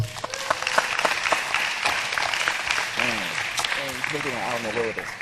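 Dense applause from an audience at a panel discussion on race, faith and justice, thanking the panelists; steady, close clapping fills the room while voices talk and call out over it.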